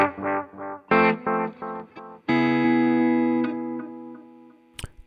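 Guitar through a NUX Mighty Plug Pro with analog delay, a few plucked notes and then a ringing chord whose sound trails off in soft repeating echoes, moderately loud with no talking.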